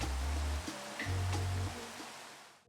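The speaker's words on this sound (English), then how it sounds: "I do want to wait for this rain to go away before I like continue doing anything else" Rain falls in the video game Minecraft as a steady broadband hiss, with a low rumble and a few faint clicks underneath, and it stops abruptly at the end.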